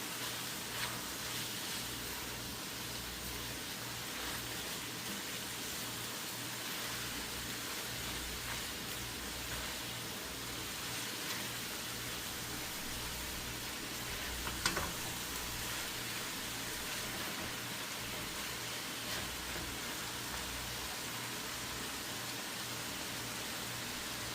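Shrimp stir-fry with cabbage, carrot, sweet pepper and onion sizzles steadily in a pan, a continuous hiss with a faint clatter of stirring, no voices over it.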